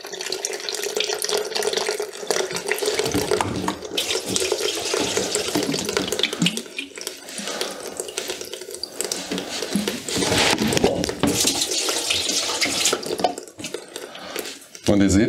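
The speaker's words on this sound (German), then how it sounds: "gießt mit, zum Beispiel mit einer Gießkanne oben das Wasser rein und seht dann schon, wie es unten den Dreck und alles aus der Maschine spült" Water poured from a watering can into the top of a Siemens washing machine, clogged with fault F18, splashes and gurgles as it drains slowly through the pump housing, a steady running wash heard close up.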